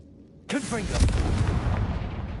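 A Confringo fire-blast spell in Hogwarts Legacy goes off suddenly with a loud, sharp whoosh, then a burst of crackling explosive rumble that keeps roaring and churning at full strength, with a voice shouting over it at the start.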